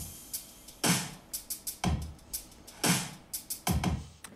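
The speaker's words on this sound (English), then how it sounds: "So I have this drum loop here." A drum loop made in Propellerhead Reason 6 repeats at a steady tempo, with punchy kicks and snares and quicker hits between them. It is fairly quiet, dry and close, with no talking.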